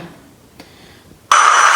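Braking sound effect from the light kit of a Lego 42127 The Batman Batmobile, a sudden bright electronic screech that starts abruptly after near silence and holds, played close and loud with no talk.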